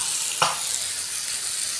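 Fish sizzles on a dosa griddle, a steady close hiss with one brief sharper crackle or scrape near the start.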